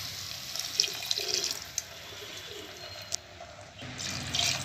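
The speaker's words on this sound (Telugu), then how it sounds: "4 స్లైసెస్కి 6 టీ గ్లాసులతో నీళ్ళు పోయాలండి" Water poured from a small tea glass into a cooking pot for vegetable Maggi noodles, a steady close splashing and trickling with a few brighter spatters, fairly quiet, with no talking.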